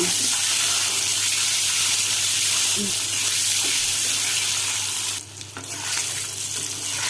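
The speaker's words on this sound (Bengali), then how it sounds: "এখন আমি ডিমগুলো সিদ্ধ করে লবণ হলুদ দিয়ে ভেজে নেব" Boiled eggs seasoned with salt and turmeric fry in a pan, making a loud, dense hiss of oil that stays steady, briefly drops away near the end, then resumes.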